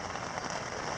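A summer rain shower falls steadily on a camping tent at a wilderness campsite in July, a dense even patter close by with no voices.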